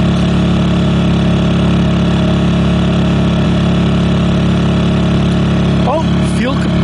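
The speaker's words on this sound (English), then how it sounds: "I heard the engine, it throttled down slightly." Portable generator engine running in economy mode at a steady low drone with a constant hum, close and loud, as it throttles down slightly; a few brief higher squeaks near the end.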